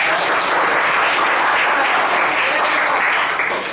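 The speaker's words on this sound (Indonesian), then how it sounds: "Tepuk tangan buat kita semua dulu ya" Students in a classroom give a dense, steady round of applause that fills the whole stretch at close range, easing slightly at the very end.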